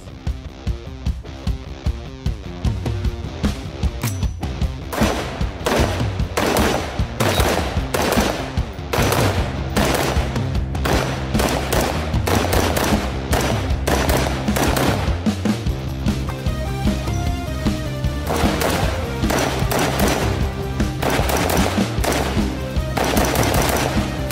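Radical Defense AR15 patrol rifle firing outdoors, a long run of sharp, loud shots in rapid, steady succession with only brief pauses.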